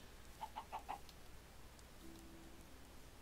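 Chicken clucking in a video game, four quick soft clucks in a row, faint under a noisy game background, followed by a brief low hum.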